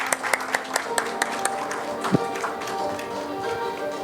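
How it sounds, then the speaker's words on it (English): Clapping at an awards conference ceremony, starting as a few distinct, spaced claps before blending into a softer, steadier applause, fairly close. "Please give him a huge round of applause,"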